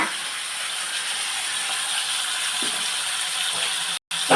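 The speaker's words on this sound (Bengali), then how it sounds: "এবার চিংড়ি মাছগুলোকে একটু ভেজে নেব" Prawns sizzling in hot oil in a home kitchen, a steady close hiss and crackle that runs almost unbroken, with a brief dropout near the end.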